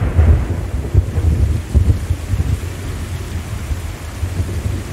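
Heavy rain and rolling thunder in the video game Stray, a loud close downpour with repeated deep thunder rumbles and no speech.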